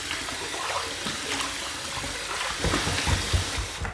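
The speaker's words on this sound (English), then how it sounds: "Let me take this hot water off of the soap" Hot water poured off a puck of almond-scented Cella shave soap, a steady close splashing trickle running without pause and swelling slightly toward the end.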